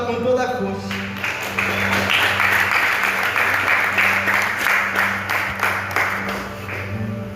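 A church congregation at a Carnival worship service applauds loudly and steadily for several seconds, the clapping sustained over low, steady musical tones underneath.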